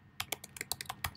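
A wallet password is typed on a computer keyboard as a quick run of about ten crisp, close keystrokes in an uneven rhythm, with no other sound.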